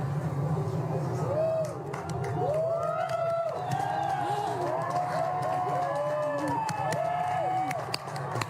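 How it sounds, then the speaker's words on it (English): Outdoor crowd cheering and whooping at an October 2023 annular solar eclipse, rising voices and drawn-out calls overlapping steadily for several seconds over a constant background murmur. "Everyone is cheering."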